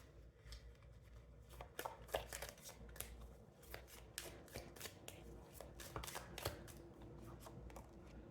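Tarot cards shuffled and pulled from the deck in a steady flurry of crisp riffles and snapping flicks, close and quiet over a low background hum.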